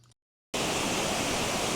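A waterfall at Fall Creek Falls State Park roars as a loud, unbroken rush of falling water that starts abruptly after a short silence.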